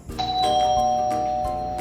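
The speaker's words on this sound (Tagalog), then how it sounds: "bigla ko napansin meron pala tong doorbell" A doorbell chimes at a vacation house in Canyon Woods, Tagaytay, a clear two-tone ding-dong ringing out loudly nearby and fading slowly.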